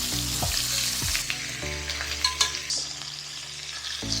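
Onions sizzle and fry in a hot pan beside Korean BBQ meat cooked at home, a steady crackle nearby with scraping stir strokes and small pops over it.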